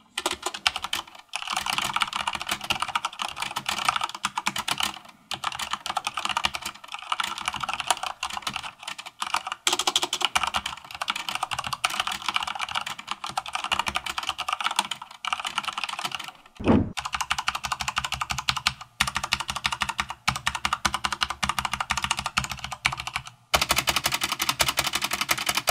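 Rapid, continuous typing on a Corsair K70 RGB MK.2 mechanical keyboard with red switches, with dense key clacks and a few brief pauses and louder thunks, close and unaccompanied by speech.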